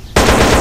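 A silenced gun in a GTA San Andreas weapon mod starts up suddenly after a quiet moment and fires a loud, continuous rapid burst.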